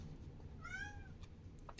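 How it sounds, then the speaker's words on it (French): A cat gives a single faint, short meow indoors over low background hum, with light rustling afterward and no one speaking. "Mon chat qui la ramène"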